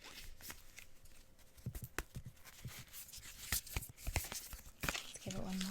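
Tarot cards are shuffled in quick, crisp riffles and soft slaps, close to the microphone, with light handling noise between the bursts.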